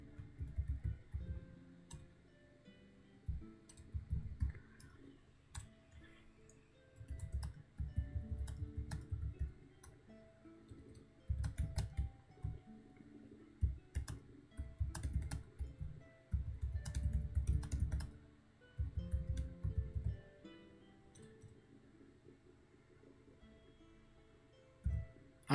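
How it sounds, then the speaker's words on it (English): Fast, dense bursts of computer keyboard typing clatter in irregular flurries with brief pauses between them, close and fairly loud, no one talking. "I'm like typing up a fucking storm right now."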